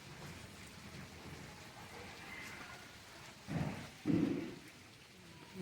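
Heavy rain falls in a steady, faint hiss, broken by two short low rumbles near the end, with no clear talk over it.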